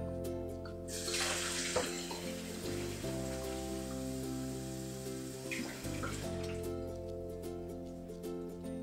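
Water poured from a tap into a homemade sugar-free horse treat mixture, a steady close rushing flow that runs throughout with a brief dip midway.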